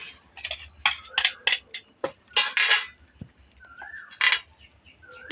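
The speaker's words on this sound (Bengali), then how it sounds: "একটু নাড়াচাড়া দিয়ে নেবো নাড়াচাড়া দিয়ে নিয়েছি" Potol (pointed gourd) and mung dal curry is stirred in a pan with a spoon, making intermittent scrapes and metallic clinks close by, while birds chirp faintly in the background.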